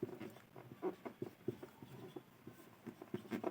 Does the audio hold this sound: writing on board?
yes